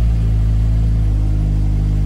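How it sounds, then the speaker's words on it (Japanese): Toyota 86 2.0 GT with a six-speed manual, Rosso Modello exhaust and aftermarket coilovers, idling just after start-up: a loud, steady, low engine drone held close to the microphone, with no speech. "ちょっとエンジンをかけてみます。"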